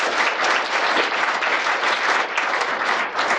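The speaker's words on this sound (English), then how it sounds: "give them a round of applause" An audience at the opening of Trilogy's 100th campus gives a round of applause, steady, close, many hands clapping without pause for the whole stretch.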